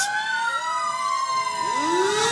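Ambulance siren in an Independence Day parade, a loud continuous wail with rising and falling sweeps, a second sweeping tone joining near the end.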